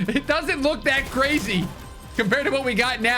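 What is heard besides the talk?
None of the usual background noises is heard.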